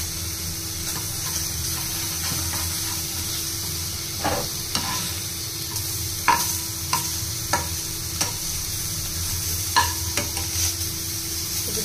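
Prawns dry-fry in a pan with no oil as their water cooks off, giving a steady soft sizzle broken by occasional sharp clicks and scrapes from stirring.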